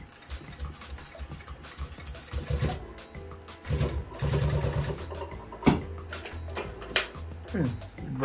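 A sewing machine stitching leather with long stitches chatters in a steady, fast mechanical rhythm that swells and eases as it runs, while a voice talks over it.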